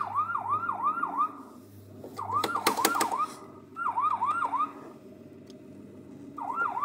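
A coin-operated kiddie ride fire truck siren wails in repeated rising-falling sweeps, stopping and restarting in short bursts, with a clattering electronic tone in the middle and background rumble.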